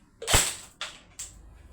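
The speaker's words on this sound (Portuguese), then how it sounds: "Se eu efetuar uma sequência de disparos" Three sharp shots from an airsoft DMR rifle crack in quick succession, the first loudest, each with a brief trailing hiss.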